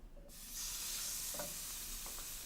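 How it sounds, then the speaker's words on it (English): Prepared steaks hit a preheated pan and burst into a loud, steady sizzle after a brief quiet start, with a few faint clicks of handling over the continuous frying hiss. "we're going to take our prepared steaks and we're going to put them right in that pan"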